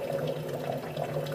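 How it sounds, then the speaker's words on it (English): Hot water runs steadily from a kitchen tap into a sink, a continuous close splashing stream with no talk over it. "this is the hottest water out of my tap"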